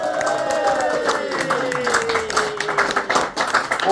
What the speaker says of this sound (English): Clap your hands, go wild, go crazy for Mr. Billy McGuire